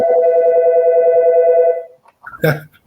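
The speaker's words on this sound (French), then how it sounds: "Le téléphone n'arrête jamais." A telephone rings in a steady electronic trill for nearly two seconds, then stops, followed by a brief burst of voice.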